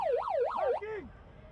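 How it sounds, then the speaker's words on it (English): A short halftime siren at a women's rugby sevens match between Singapore and Indonesia wails up and down a few times, then slides down in pitch and cuts off, leaving quiet background. "As the halftime siren goes"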